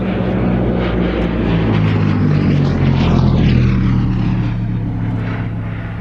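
A propeller aircraft crosses the threshold of runway 20 at Shuttleworth airfield, its loud, steady engine drone with a pitch sweep as it passes close by.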